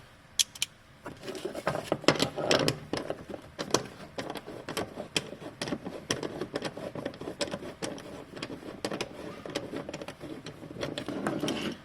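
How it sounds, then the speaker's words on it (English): A screwdriver works loose the middle seat belt in a 1999 Honda Accord, giving rapid, uneven metallic clicks and rattles close by with no one talking. "Then I'm going to go the rest of the way with a screwdriver."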